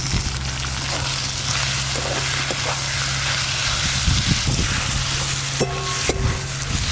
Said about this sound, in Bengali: এই যে মশলা ভাজা হচ্ছে চর্বি দিয়ে।